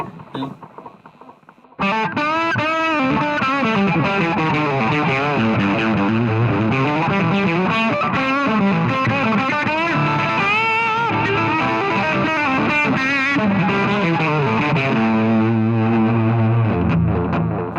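Distorted electric guitar plays a fast run of notes through a Flashback delay pedal, the delay trailing each phrase, ending on a held chord, loud and close.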